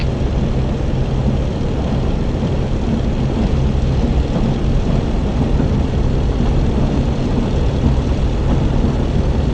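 A Bf109 propeller fighter's engine roars steadily through its takeoff roll in the DCS combat flight simulator, a loud, continuous drone with a low throbbing hum that holds evenly throughout with no voices.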